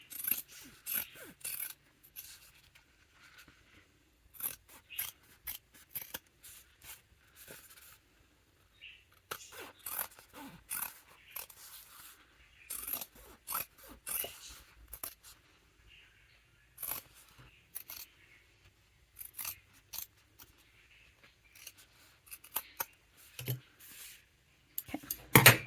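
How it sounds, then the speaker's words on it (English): Scissors trim the fabric seams and corners of a sewn wallet, making quiet, close snips and rasping cuts in irregular clusters, separated by near-silent pauses and light handling of cloth. "now you can trim all these seams,"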